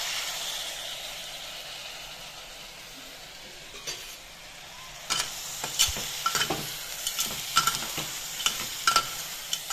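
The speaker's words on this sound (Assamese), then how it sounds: "এতিয়া ৰাজমাহখিনি ইয়াতে দি লৰাই দিম।" Rajma tipped into a hot pan and stirred, a soft hissing sizzle at first, then sharp spoon scrapes and knocks against the pan in irregular bursts, close up with no voices.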